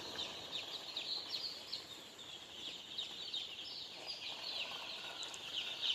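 Sonali chicks under a lit brooder hover on a farm, a dense, continuous chorus of high peeping chirps at moderate distance, without speech.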